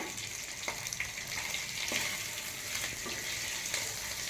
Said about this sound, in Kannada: ಸ್ವಲ್ಪ ಹಾಲು ತುಪ್ಪದಲ್ಲಿ ಆಲೂಗಡ್ಡೆ ಫ್ರೈ ಆದರೆ ಸಾಕು